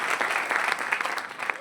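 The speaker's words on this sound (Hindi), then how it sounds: "ये साहब जोरदार ताली बजा दो इनके लिए" Audience applause breaks out for a retired central paramilitary man, a steady wash of clapping from a crowd that holds at an even level for its full length with no voices on top.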